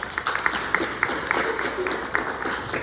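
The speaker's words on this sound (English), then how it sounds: "Round of applause" An audience at a university clarinet etudes workshop gives a round of applause, with scattered, fairly close claps mixed with a few voices in the room.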